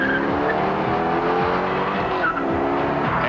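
A 1998 C5 Chevrolet Corvette is driven hard through a slalom, its engine roaring continuously and rising and falling in pitch as tires squeal loudly, close and sustained.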